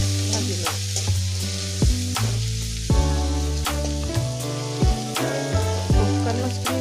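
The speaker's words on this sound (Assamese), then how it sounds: "এইখিনি ভালদৰে ভাজি লওঁ।" Dried fish with turmeric fries in a pan with a steady sizzle, while a utensil stirs and scrapes against the pan in repeated sharp knocks.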